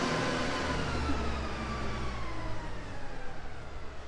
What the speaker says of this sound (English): going to wait for our tractor to go by.